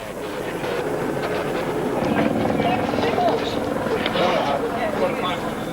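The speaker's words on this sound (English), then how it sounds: "The helicopter guides him to the exact spot." A police helicopter hovers overhead during a night pursuit of a car gang in the UK, its loud, steady rotor and engine roar filling the scene continuously.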